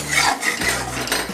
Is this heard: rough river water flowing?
no